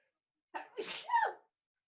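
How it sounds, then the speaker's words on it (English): A single sharp human sneeze, a quick intake followed by an explosive burst, close and clear against near silence. "Get a sneeze out."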